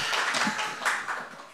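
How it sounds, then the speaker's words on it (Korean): Scattered, light hand claps patter steadily for a moment in a church, a small group applauding rather than a loud crowd. "감사의 박수를"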